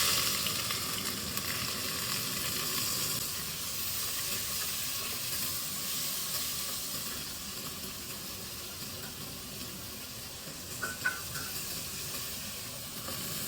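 Sliced onions frying in hot oil for biryani, giving a steady, close sizzling hiss that stays continuous throughout, with a few faint clinks near the end.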